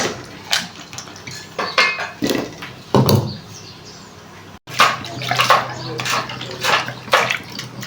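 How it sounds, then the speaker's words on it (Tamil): Chopped vegetables scooped by spoon into a pot of dal for sambar, with several knocks and scrapes of metal utensils against cookware and a soft slosh, close and moderately loud, with a brief pause midway. "இப்போ வந்து காயை வந்து வெட்டின காயை நம்ம அள்ளி போட்டுடலாம்."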